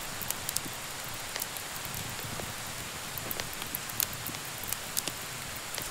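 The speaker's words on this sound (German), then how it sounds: "Und da kommt der Regen dann drauf. Und das Material ist bereits nass." Steady rain patters on wet felt clothing in the video game Medieval Dynasty, a dense, even hiss with scattered soft droplet ticks throughout, fairly quiet and with no voices.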